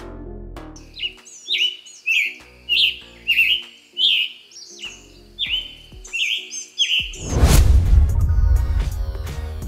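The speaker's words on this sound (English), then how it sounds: "They sing in a rambling, burry song and make a harsh and distinctive call." Scarlet Tanager sings a burry, rambling song of about ten short phrases in a steady rhythm, close and clear, ending in a louder noisy rush.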